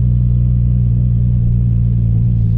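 A 2JZ-swapped Nissan 240SX cruising in second gear, heard from inside the car as a loud, steady low engine drone and rumble with no break or change in pitch.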